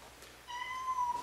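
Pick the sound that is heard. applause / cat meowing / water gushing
cat meowing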